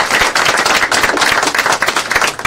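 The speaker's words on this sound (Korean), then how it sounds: "큰 감사의 박수를 보내주시기 바랍니다" Audience applause at a political party's second anniversary ceremony, loud close clapping with distinct sharp hand claps rising out of a steady dense patter.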